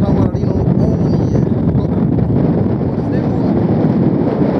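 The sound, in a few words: strong gusting wind in a snowstorm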